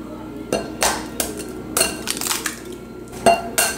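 Egg wash is whisked in a bowl, making a series of sharp metallic clinks and taps at an uneven rhythm, loud and close.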